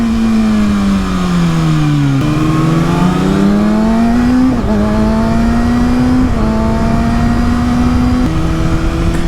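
A 2019 Kawasaki Ninja ZX-6R runs steadily in sixth gear on an ordinary public road, a loud, continuous engine drone that dips and climbs slightly in pitch as throttle shifts, with no voices.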